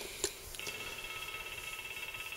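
An Arduino-driven model level crossing bell rings as a steady, rapid electronic chime, fairly faint and alone, with a brief click at the start.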